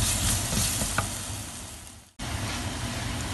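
Fish curry masala sautéing in coconut oil for a Kerala-style curry, a close, dense sizzle with a few soft stirring knocks, briefly cut off before the frying resumes.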